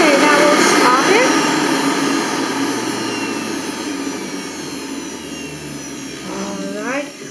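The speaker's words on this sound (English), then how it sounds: "I like to hear the sound of the machine, so I know it is working okay." A Bullet Express juicing machine runs on lemons and oranges, giving a steady loud motor whine that eases slightly over several seconds, with brief rising pitch sweeps near the start and end.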